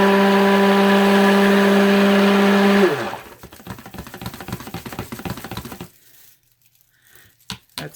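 Stick blender whirring steadily in white soap batter for about three seconds, loud and constant, then cutting off into scattered clanks, scraping and handling noises that fade toward near silence.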